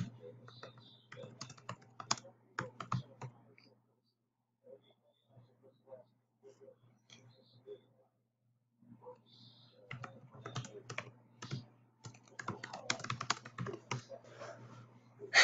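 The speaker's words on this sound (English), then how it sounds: "let me type, hold on." Quick bursts of computer keyboard typing, broken by a quiet pause midway, with a steady low hum underneath throughout; the keystrokes are close and fairly loud, then resume densely toward the end.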